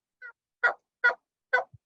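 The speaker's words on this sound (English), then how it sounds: "even with a hen calling in the morning in the tree, they sound very subtle" A wild turkey hen calls from a tree in the morning as a spring gobbler answers: four short, clipped calls spaced evenly and close by, with no other sound around them.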